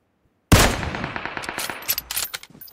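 Gunfire in PUBG Mobile, a loud opening shot followed by a rapid string of automatic rounds that ends in a few scattered bursts, alone after brief silence.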